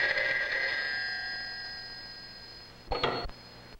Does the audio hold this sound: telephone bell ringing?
yes